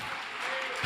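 A church congregation claps together in a soft, continuous wash of applause heard from a distance, with a faint voice rising at the very end.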